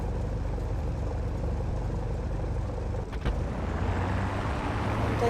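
A P-51 Mustang fighter taxiing in the DCS World flight simulator, its engine a steady low droning rumble at light throttle, loud and continuous with a brief dip partway through, and no talking.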